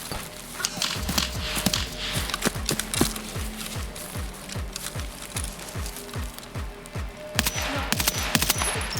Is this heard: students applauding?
no